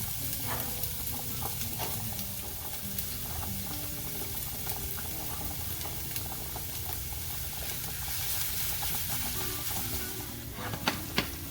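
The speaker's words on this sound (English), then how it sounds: "That nice sizzle going." Onion for creamy lemon chicken sizzles and crackles steadily in a hot pan, a dense continuous frying hiss with occasional pops and a brief stir near the end.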